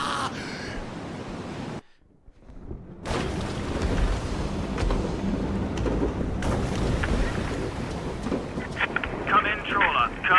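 Storm wind roars at sea in the video game A Fisherman's Tale, a dense, steady rushing gust with rumbling low swells, briefly cutting out before resuming loudly, with a faint voice at the start.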